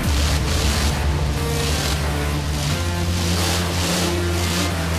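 An offroad truck fitted with tank treads runs at a drag race, giving a loud, continuous engine drone. Its pitch shifts partway through as it keeps driving, and no voices are heard.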